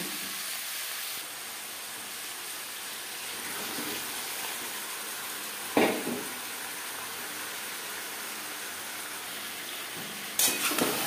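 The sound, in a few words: marinated chicken added to the pan and frying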